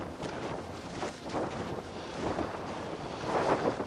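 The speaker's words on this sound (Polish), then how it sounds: "Silny wiatr." Strong wind buffets the microphone in steady roaring gusts, with a broad rushing noise that swells and eases throughout.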